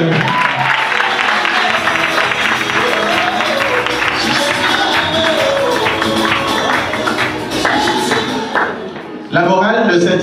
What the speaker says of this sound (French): On applaudit pour eux.